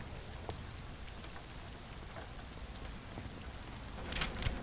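Steady, soft rain in the video game Portrait Of A Torn, a faint even hiss of drops with scattered small patters and a slight swell near the end, with no voices.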